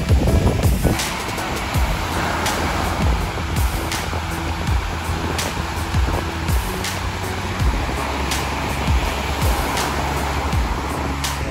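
Surf washes onto a beach in a continuous rush, with wind buffeting the microphone and occasional louder swells, all close and fairly loud, with no talking.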